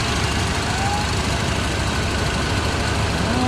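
Steady, loud idle of a 1978 Ford F100 engine fitted with Holley Sniper EFI, revived after years parked, a continuous low rumble with a faint whine and no voices.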